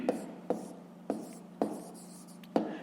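Handwriting on paper while solving a fifth-grade maths exercise, with five soft, distinct pen taps and strokes spaced unevenly over a quiet, close background.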